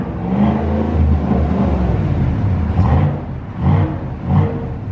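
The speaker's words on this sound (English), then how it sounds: "Let me just get a little bit more rev on that." A 2019 GMC Sierra Denali fitted with a cat-back performance exhaust idles with a deep, close rumble, then gets blipped in three short, punchy revs near the end.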